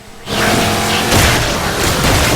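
A loud boom bursts out after a brief quiet start during an online co-op video game campaign, followed by a sustained roaring blast with a second swell of debris noise near the end.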